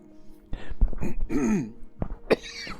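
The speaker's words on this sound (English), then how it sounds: "Gotta clear my throat." A person clears their throat with a few rough, harsh coughs and grunts, close and fairly loud, with no talking, aboard a six-passenger Piper Aztec aircraft.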